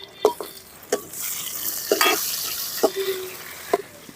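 Tomato frying with onion and dried red chillies in a village kitchen pan, a soft continuous sizzle punctuated by several sharp scraping stirs at regular intervals, close and fairly quiet.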